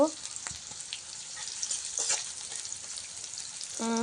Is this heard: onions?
yes